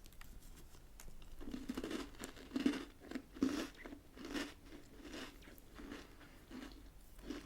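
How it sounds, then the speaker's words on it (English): Someone bites into a Canadian maple cream sandwich biscuit and chews it close up, making quiet, crisp crunches in an irregular rhythm. "It's exactly like eating a custard cream, but the cream inside tastes like maple syrup."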